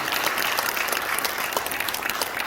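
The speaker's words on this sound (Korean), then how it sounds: "나오실 때 박수로 환영하겠습니다." Applause fills a church assembly hall as a pastor is welcomed to the pulpit, a dense, steady clapping from a large congregation that continues throughout.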